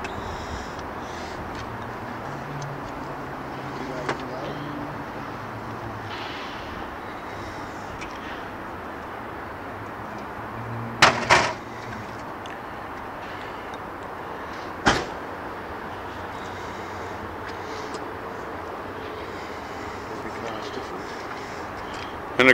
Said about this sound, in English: Can you pop the bonnet for us and give us a look underneath?